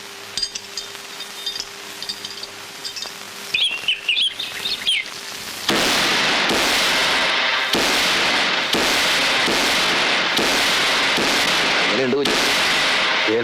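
Firecrackers and fireworks going off at a temple festival, a run of loud sharp bursts repeating roughly every second or two, following a quieter stretch with bird chirps and clinks.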